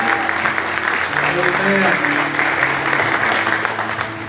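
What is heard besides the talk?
church congregation clapping for first-time guests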